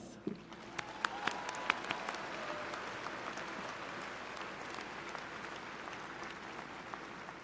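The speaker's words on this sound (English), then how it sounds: "So let's give our music ensemble a round of applause." Audience at a spring commencement ceremony for a college of architecture, arts and design applauds a music ensemble, a dense wash of clapping that holds steady and fairly distant throughout, with a few sharper claps standing out near the start.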